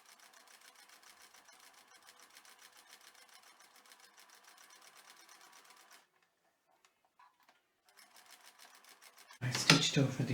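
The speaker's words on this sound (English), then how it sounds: "I stitched over the opening twice" A domestic sewing machine runs steadily at a short stitch length over the opening of an unpaper towel, a fast even whir for about six seconds, then stops; a brief loud clatter follows at the end.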